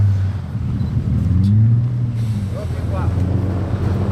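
Pagani Zonda supercar fitted with snow tyres sliding sideways on snow, its engine droning low and steady in a continuous rumble under a commentator's voice, with some wind noise.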